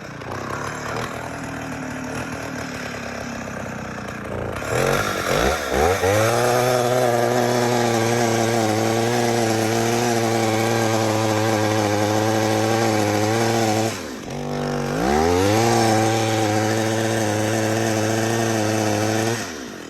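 A Stihl 051 chainsaw engine with a persistent running fault, idling roughly then revving up twice to a loud, sustained, steady roar, with brief dips between bursts.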